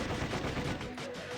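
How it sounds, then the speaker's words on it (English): Dense bursts of rapid gunfire from the video game Sweet Fuse, loud and continuous like a machine-gun volley, lasting a short moment. "the air erupted in gunfire"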